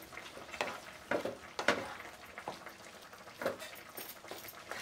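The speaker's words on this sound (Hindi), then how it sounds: "अभी मैं इसमें मावा डाल दूँगी और अच्छे से इसे क्रश करना है मावे को भी और मिक्स करते जाएंगे" A spoon stirs and crushes mawa in a pan of carrot-beetroot halwa, making soft, intermittent scraping and mashing sounds with a faint sizzle, quiet and close.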